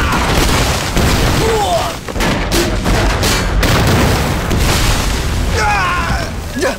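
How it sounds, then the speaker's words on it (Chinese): Artillery shelling in a Chinese anti-Japanese war film: loud, dense rolling booms and blasts fill the whole stretch, with brief shouted voices mixed in. "命令炮兵，给我狠狠地轰击敌人的阵地！"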